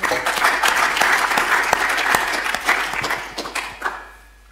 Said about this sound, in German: Danke für den Applaus